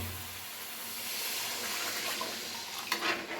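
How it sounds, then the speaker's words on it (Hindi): Water pours into a pan of oil while cooking ribbon fish curry, a soft, steady hiss and splash that rises slightly toward the end, fairly faint and heard alone. "और हम इसमें अभी डालेंगे पानी।"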